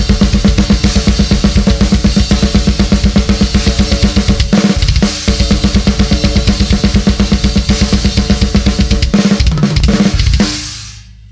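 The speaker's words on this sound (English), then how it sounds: "So what I do is I use this, you know, hybrid technique, and I accent all the different shots" A drum kit plays a fast, loud blast beat with hybrid technique and accented shots. Relentless evenly spaced hits fill the clip, broken by a couple of brief fills before it stops abruptly near the end.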